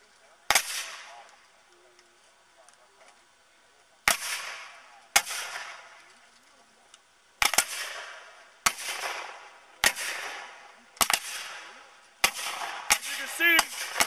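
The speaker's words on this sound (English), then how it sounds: "As you can see, firing independently, putting out that high rate of fire now." Civil War reenactors at Gettysburg fire muskets independently, producing sharp, loud, separate reports at uneven intervals, each followed by a brief echoing tail, with quiet gaps between some shots.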